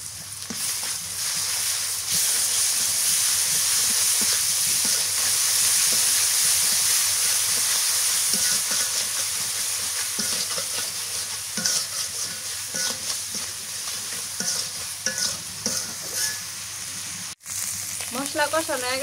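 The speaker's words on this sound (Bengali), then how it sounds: "মশলা কষানো হয়ে গেছে" Spice paste of ground garlic, onion and cumin frying in a pan, a loud continuous close sizzle with hissing steam and intermittent scraping as it is stirred.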